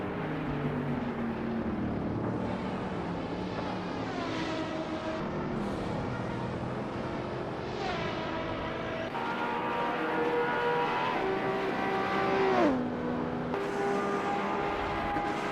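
Racing video game cars, including a Bugatti Chiron, speed along with a steady, continuous engine drone whose pitch rises and sweeps down near the end as the cars shift and pass.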